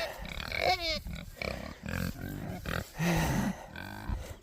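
Pigs on a farm grunt and squeal in a close, busy jumble of snorts and rough vocal bursts, fairly quiet overall, with a few louder squeals standing out.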